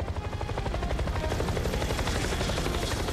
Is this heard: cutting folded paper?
no